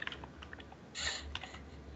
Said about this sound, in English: you're so good at typing